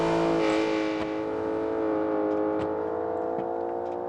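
BMW and Porsche cars drive in the BeamNG Drive video game, their engines humming in a steady, loud, continuous drone with a few faint bumps and clicks over the top.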